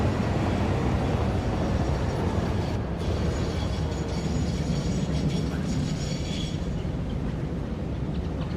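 A train in the factory-building video game Satisfactory rolls past with a continuous, loud, broadband rumble and rushing noise that holds steady throughout, heard alone without speech.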